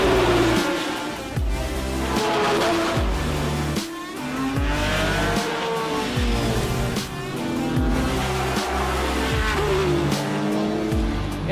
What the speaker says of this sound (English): And here's the start for the GT cars.